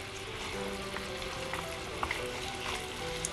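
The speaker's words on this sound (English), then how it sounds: "And I just want to cook these until they're coated and the liquid starts evaporating." Mixed nuts cooking in honey with salt and cinnamon in a Dash mini pan give a steady, close sizzle with a few small pops, alone and without talk.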